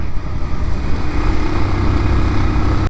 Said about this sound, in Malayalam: സ്മൂത്തസ്റ്റ് എൻജിൻ അറ്റ് പീക്ക്